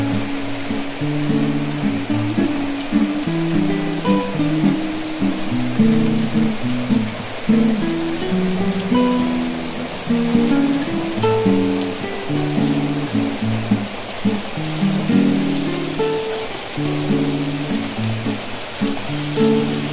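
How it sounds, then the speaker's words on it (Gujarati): Heavy rain pours down in a steady, dense roar around a home during the daytime, loud and close throughout with no break and no talking. "ત્યાં જ વરસાદ ચાલુ થઈ ગયો ધોધમાર"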